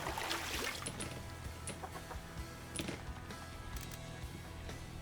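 Chickens in the video game Bounty Star cluck repeatedly at moderate volume over a steady low background hum, with scattered short bursts and no talking.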